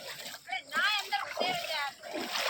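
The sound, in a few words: children splashing in village flood water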